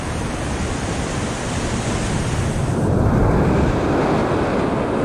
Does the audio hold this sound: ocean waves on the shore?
yes